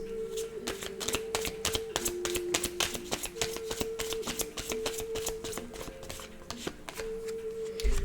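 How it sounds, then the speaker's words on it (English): A deck of empowerment cards is shuffled and cards are pulled, giving a rapid, steady run of close-up riffling snaps and flicks that last throughout, with no talking. "I'm going to pull 3 cards"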